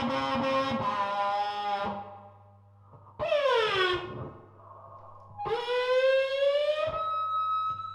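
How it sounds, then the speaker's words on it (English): Loud, sustained whining feedback tones from an electric kazoo through an amplifier rise and swell in three long bursts, harmonically rich, with short quieter gaps between them. "we can get some feedback"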